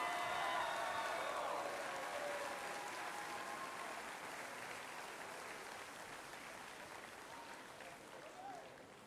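A crowd at a Shawnee Mission Northwest basketball game applauds a newest Hall of Fame inductee, a broad wash of clapping that starts strong with a few cheers and slowly fades over several seconds.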